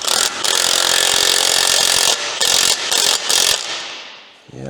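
A long bolt is turned hard with a ratcheting tool to draw a part onto dowels, giving loud continuous grinding and rasping in several bursts separated by short pauses, close and alone.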